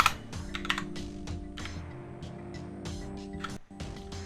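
Quick clattering keystrokes on a computer keyboard during a RimWorld session, a busy run of clicks through most of the stretch over a steady low hum, with no talk.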